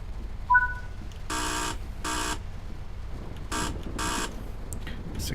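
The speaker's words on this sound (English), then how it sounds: "Let's wait for the guard's buzzer and then we can be departing." Guard's door buzzer in a train cab in Train Sim World 3, four short harsh buzzes in two pairs, loud and close over a low steady cab rumble.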